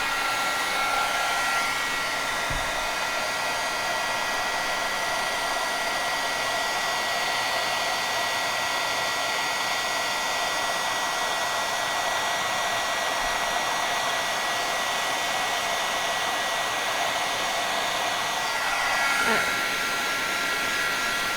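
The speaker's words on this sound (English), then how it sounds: "you can see the heating element in there heat up" A heat embossing tool runs steadily with a constant, airy blowing whir, close and continuous, while its element heats up for card making; the tone shifts briefly near the end as it is moved.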